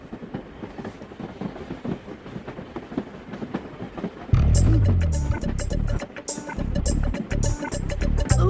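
Moving passenger train in India, a soft rumble that turns into a louder steady roll with rhythmic clatter partway through, with faint voices nearby.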